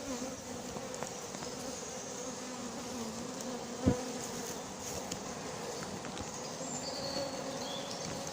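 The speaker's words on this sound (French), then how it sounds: "Les abeilles sont dans la ruche." A honeybee swarm newly settled into a natural hive hums in a steady, low buzzing drone, close and continuous, with one sharp knock partway through and a faint train-like rumble in the background.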